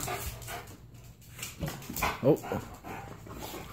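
A dog plays with a balloon, giving a short whimpering yelp among soft thumps and shuffling, while a person speaks briefly nearby.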